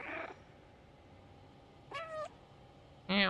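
Game cat meows in Stray, three separate short calls spread across a few seconds, the middle one a rising-falling yowl and the last loud and close, over quiet ambient background.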